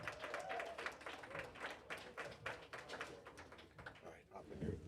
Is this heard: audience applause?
yes